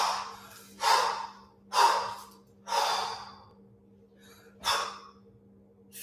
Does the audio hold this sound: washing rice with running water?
no